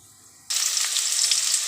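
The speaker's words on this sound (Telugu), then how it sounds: "పోపు గింజలు వేసుకున్నా." Mustard and other tempering seeds hit hot oil after a half-second of quiet, breaking into a loud, steady crackling sizzle with scattered pops that continues close up to the end.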